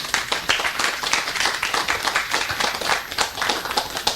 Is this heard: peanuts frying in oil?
no